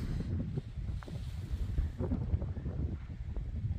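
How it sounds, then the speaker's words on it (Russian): Wind buffets the microphone in a continuous low rumble with gusty swells, faint and steady throughout, no voices, outdoors by water in autumn. "Но так как ветер сильный дует, то воду отогнал"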